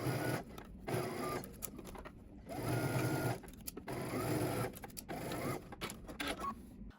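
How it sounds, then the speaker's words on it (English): A sewing machine runs in several bursts of rapid whirring stitching, stopping and starting between runs, close by and moderately quiet. "we're going to head to the sewing machine and we're going to stitch"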